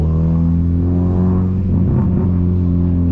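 A 1999 VW Gol G2 1.0 8V with a 4-inch HKS exhaust idles and revs loudly up close, its deep droning rumble swelling briefly before settling, with no talking.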